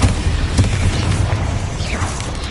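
A Bombarda blasting spell explosion in the video game Hogwarts Legacy, heard as a loud booming burst followed by rumbling debris and a short descending whoosh, all within a couple of seconds.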